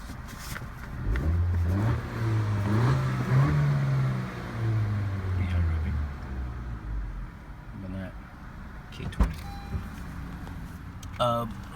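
A 2017 Honda Civic Si accelerates hard from a standstill, its engine note rising steadily and loudly through the first few seconds before tailing off, with some road noise and a couple of knocks later on.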